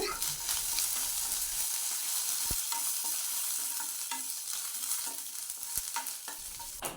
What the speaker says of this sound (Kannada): ಒಂದು ಕರಿಬೇವು ಸೊಪ್ಪನ್ನು ಹಾಕ್ಕೊಂಡೆ ನೋಡಿ ಇದನ್ನು ಸಹ ಚೆನ್ನಾಗಿ ಫ್ರೈ ಮಾಡ್ತೇನೆ